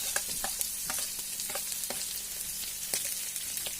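Onions fry in a pan for poha over low heat, giving a steady crackling sizzle with sharp stirring ticks and scrapes recurring every half second or so; no speech.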